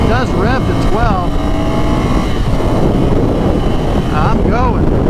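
A 2019 Ducati Scrambler Cafe Racer's engine revs while riding, a loud continuous drone with rising and falling pitch sweeps as the throttle opens, heavy wind buffeting throughout.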